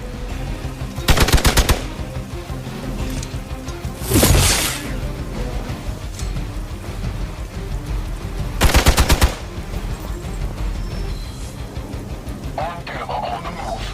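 Gunfire in the video game Marvel's Midnight Suns: three loud, rapid automatic bursts roughly four seconds apart, with a whooshing effect between them over a continuous game soundtrack and voice lines.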